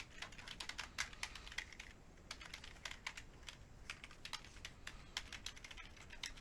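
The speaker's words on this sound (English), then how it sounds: "here's where you just type in the answer" Someone types on a computer keyboard at home, a quiet, steady patter of key clicks in irregular quick runs with brief gaps, close by and with no talk.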